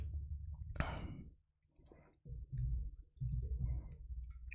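A single sharp click from the Enter key pressed on a computer keyboard, followed by someone talking quietly nearby.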